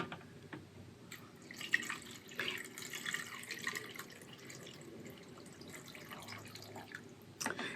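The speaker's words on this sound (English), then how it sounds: "I'm actually going to pour my water into my blender" Water poured from a container into a blender jar for a cabbage pH test, a faint trickling and splashing stream with a few sharper drips, running steadily for several seconds with no one talking.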